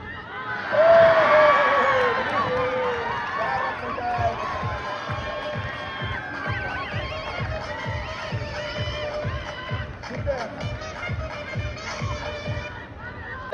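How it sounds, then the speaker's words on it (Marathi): Players and spectators cheer together at the final of an amateur cricket premier league, a loud burst of mixed shouting and crowd noise that then settles into a steady, busy hubbub with rhythmic thumps underneath. "पॅव्हिलियन मधून सर्व खेळाडू या ठिकाणी जल्लोष करताना दिसत आहेत, चिअरअप करताना दिसत आहेत"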